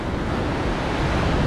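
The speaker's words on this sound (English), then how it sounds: "Loads of swell though, which is good." Ocean swell and surf waves at a beach in Panama, a steady loud wash of breaking water mixed with wind buffeting the microphone.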